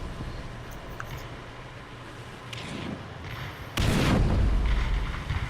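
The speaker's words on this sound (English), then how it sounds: "He's calling an artillery strike in on us." Artillery strike explosions in War Thunder, with a Sturmgeschütz assault gun under fire: distant rumbling thuds build up, then a loud, close blast with sustained roaring debris.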